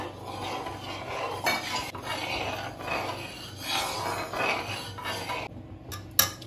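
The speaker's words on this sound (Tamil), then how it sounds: "அந்த மாவை ஊற்றின உடனேயே நல்லா கை விடாமல் கிளறிட்டே இருக்கணும்" Rice flour batter stirred nonstop in a pan, giving repeated scraping and clinking spoon strokes against metal, close and steady, with a sharp clink near the end.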